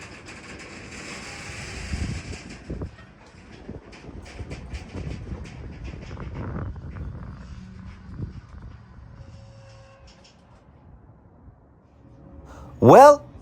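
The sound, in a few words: long train coming to a stop at a crossing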